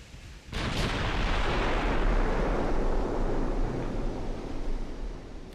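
A tank cannon in a video game fires a high-explosive shell: one sudden loud boom that rolls into a long, heavy rumble, decaying slowly over several seconds with no voices.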